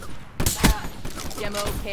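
Suppressed shotgun firing in a multiplayer shooter, two sharp muffled blasts in quick succession near the start followed by softer clattering game sounds.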